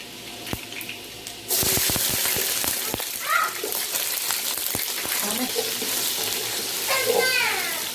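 Shallots and mustard seeds hit a hot pan with a sudden loud sizzle that carries on steadily after a few taps, mixed with occasional stirring scrapes.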